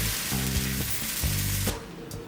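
Methi dosa batter sizzling as it is spread over a hot iron griddle, a dense, steady hiss close by that fades noticeably near the end.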